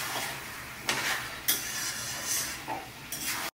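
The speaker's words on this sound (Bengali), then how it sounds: "খুব ভালো করে মাটনটা কষিয়ে নেব।" Mutton sautéing in a hot pan, with a continuous sizzle and several distinct spatula scrapes and knocks against the pan at irregular intervals.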